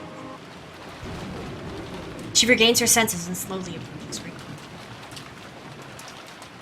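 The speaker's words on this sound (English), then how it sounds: "The sound of heavy rain" Heavy rain with thunder forms a steady hiss under a narrator's voice, with a brief rumble partway through.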